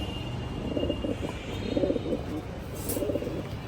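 A breeder pair of laldom pigeons gives three soft, throaty cooing phrases close by, over steady background noise.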